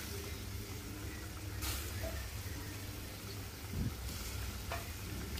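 Small cut pieces of pangas fish fry in hot oil with a steady, close sizzle, a soft stirring scrape near the middle, and a faint clink or two.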